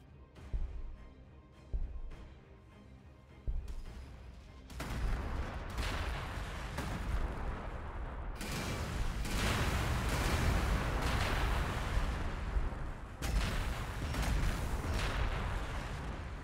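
Gunfire and artillery from the strategy video game Warhammer 40k: Gladius, Astra Militarum faction: a few sharp shots early, then dense rolling bursts of weapon fire and booming blasts that keep going at moderate loudness.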